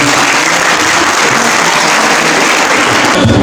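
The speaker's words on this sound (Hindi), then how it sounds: "ये तालियों का मुझे मजा नहीं आया" An audience at a beautician gala in Abbottabad applauds: dense, loud, continuous clapping fills the whole stretch at even strength, with no voices standing out.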